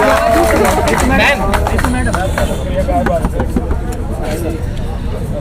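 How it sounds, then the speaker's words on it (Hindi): An audience at a public gathering gives loud, dense applause to welcome a speaker. The clapping fills the whole stretch, strongest at the start, with a voice talking over it. "आप जोरदार तालियों से उनका स्वागत करें"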